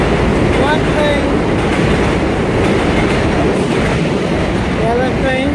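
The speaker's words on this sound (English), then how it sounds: "We see the 6 train." An R62A subway car on the 6 line rolls past near an overhaul shop, giving a steady loud rumble of wheels on track with faint squeals and clatter throughout.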